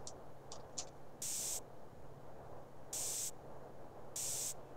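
A spray can firing in GTA San Andreas, heard as three loud bursts of hiss of roughly half a second each, separated by quieter gameplay sounds and a few short tones, with no voices.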